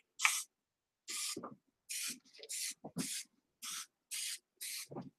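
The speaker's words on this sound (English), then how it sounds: "I'm just going to spray once" Short bursts of hissing spray repeat in an irregular rhythm, about eight quick sprays onto acrylic pour paint with brief pauses and soft handling noises between them.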